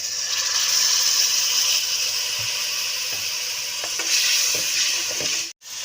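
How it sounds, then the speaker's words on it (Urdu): Spice masala with turmeric powder fries in a pan for a red kidney bean curry, giving a continuous loud sizzle broken by scraping stirs, then cutting off abruptly near the end. "دس منٹ تک ہم نے مسالے کو اچھی طرح سے بھون لیا۔"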